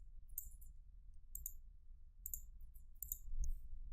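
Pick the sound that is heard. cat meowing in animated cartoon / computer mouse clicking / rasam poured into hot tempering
computer mouse clicking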